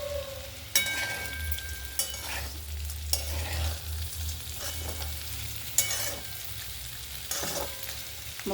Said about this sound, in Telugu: బాగా వేగిపోవాలి, బ్రౌన్ కలర్ వచ్చేలా.